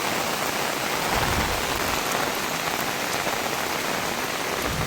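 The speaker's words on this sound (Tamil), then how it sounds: "இலங்கை யாழ்ப்பாணத்தில் வந்து வட்டுக்கோட்டையில் போய் கடும் மழை தானே" Torrential rain in Vaddukoddai, Jaffna, Sri Lanka, driven by stormy wind, hisses loudly and evenly on surfaces nearby, an unbroken wash of drops without speech.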